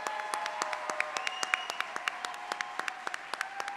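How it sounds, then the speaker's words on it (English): At a teacher awards ceremony, a scattered round of applause plays out quietly, with distinct individual claps standing out over a faint background of a small crowd clapping. "One more time, one round of applause."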